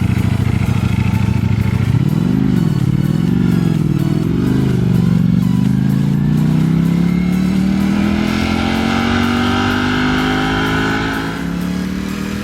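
A 2018 Ducati Panigale V4S motorcycle revving in quick wavering blips, then pulling away in a long rising acceleration through the gears, loud and close, engine alone with no talk.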